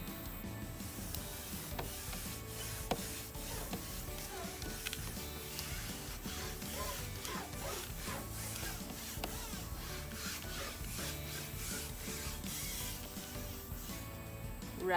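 A wet dusting mitt rubs back and forth across a window screen, making a steady scratchy rubbing texture up close, with no talk.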